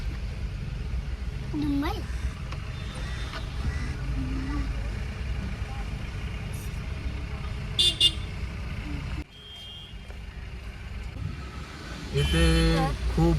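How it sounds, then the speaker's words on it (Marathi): Busy road traffic near Baga Beach, Goa, rumbles with engines; car horns toot now and then, including a loud, close honk near the end. "जास्त ट्रॅफिक आहे बागा बीचच्या साईडला"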